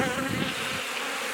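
Close, dense buzzing of many honey bees on a hive frame, a steady hum with no talking.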